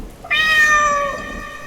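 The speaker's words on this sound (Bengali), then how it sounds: "বাড়ির পিছন দিক থেকে একটা কালো বিড়াল বিকটভাবে ডেকে উঠল" A black cat lets out one loud, drawn-out yowl that rises and then slowly fades, close and alone against a faint hush.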